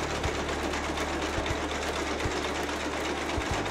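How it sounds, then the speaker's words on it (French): A wool finishing carding machine in a textile museum's cloth mill, running continuously with a dense mechanical whir and faint irregular low knocks, loud and close, no voices. "La cardeuse finisseuse sépare le voile en fines lanières de fibres appelées mèches."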